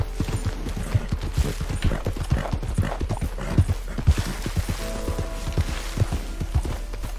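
Horse hooves clip-clop in Red Dead Redemption 2, a steady walking rhythm of close, distinct hoofbeats, with a short burst of a faint tonal sound partway through and no speech.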